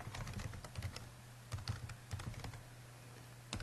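Quick, close clicking keystrokes tap out on a computer keyboard in irregular bursts, with no talk.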